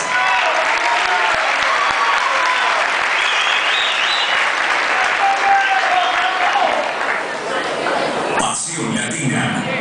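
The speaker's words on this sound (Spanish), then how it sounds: "Fuertes aplausos para ellos." A crowd gives loud applause and cheers for the salsa group Pasión Latina after a rumba set. Voices mix into the steady clapping, and near the end the sound breaks into a different, sharper burst.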